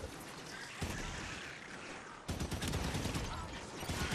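Bursts of rapid gunfire from the Xbox One shooter Halo 5: Guardians crackle in the middle of a firefight, growing louder and denser in the second half, with faint voices underneath.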